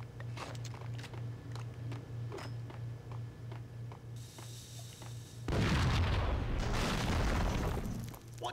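A heavy in-game explosion from the action shooter Max Payne bursts in about two-thirds through, a loud broadband boom with rumbling debris that follows a steady low hum and scattered faint clicks.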